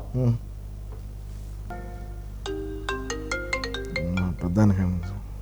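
A mobile phone rings with an incoming call, a bright melodic ringtone of rising tonal notes playing over a steady background hum, with a voice briefly heard at the start and end.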